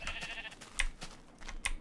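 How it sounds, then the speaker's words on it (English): Sheep bleating in the video game Minecraft, several short game-sound bleats close together in quick succession over a low background, with no talking. "Good thing there happens to be a bunch of sheep right in front of me."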